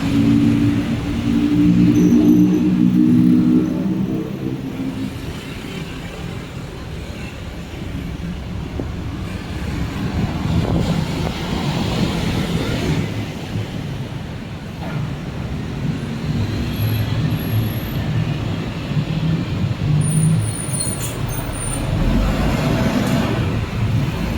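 A small motorbike threads through busy Bangkok street traffic at night, its engine a steady close rumble blended with the dense wash of surrounding cars and buses throughout.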